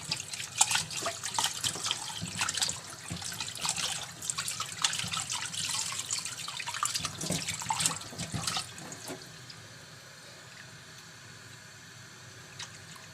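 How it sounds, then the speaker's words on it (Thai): Tap water runs and splashes into a sink while tough chicken from the market is rinsed, a continuous close spattering stream that eases off toward the end. "ก็เปิดน้ำนะครับล้างออกให้หมดนะครับ"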